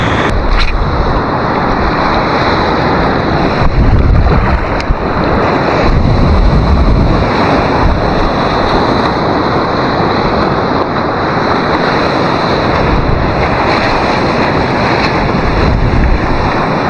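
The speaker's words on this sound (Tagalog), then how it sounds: "Mas okay na yung may mga alon na konti." Small sea waves wash at a fishing spot in steady, broadband surf noise with wind buffeting the microphone throughout, continuous and fairly loud with no talk.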